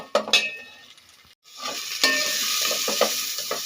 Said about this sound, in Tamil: ரெண்டையும் நல்லா வதக்கிக்கலாங்க நல்லா வதங்கட்டும்